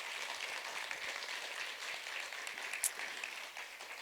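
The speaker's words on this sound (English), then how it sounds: "Can we give them another round of applause, please?" An audience at an annual forum applauds, a steady, fairly faint wash of clapping that carries on throughout without talk.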